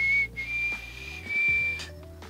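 Someone practising a loud finger whistle produces a shrill, piercing tone that breaks off and restarts several times in short, uneven bursts. The whistle is close and fairly strong.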